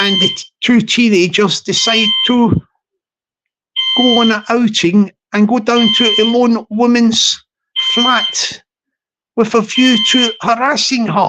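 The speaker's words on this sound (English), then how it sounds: "Oh, it's stopped now, the alarm." A high-pitched smoke-alarm-style beeping tone sounds faintly under steady, close talking that fills most of the stretch, with short pauses between phrases.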